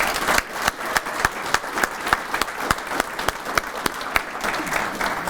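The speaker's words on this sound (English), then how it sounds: "Could you please give them a round of applause?" Audience applause at a sponsored business talk, a dense steady patter of many hands clapping with sharp individual claps standing out, sustained at even loudness throughout.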